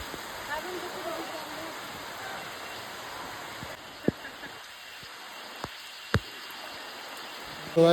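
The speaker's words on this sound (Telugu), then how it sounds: "ఇప్పుడే మొత్తం వాన పడుతూనే ఉంది" Rain falls steadily in Dandeli village, a continuous broadband hiss with a few sharp clicks and a brief louder burst at the end.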